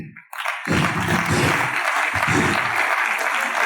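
At a youth conference, a crowd claps steadily as a research fellow is called to the stage, a dense, even wash of applause that starts after a brief pause and holds for a few seconds.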